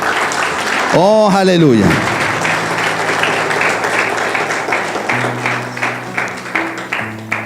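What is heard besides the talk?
church congregation applause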